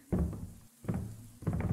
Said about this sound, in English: that thumping I heard